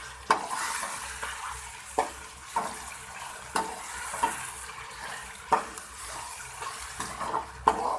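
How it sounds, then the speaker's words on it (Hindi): Three large tomatoes fry in a pan for a Pakistani bhindi gosht, giving a continuous sizzle broken by regular scraping, clanking stirs of the spoon against the pan. "अब हम टमाटरों को भूनेंगे।"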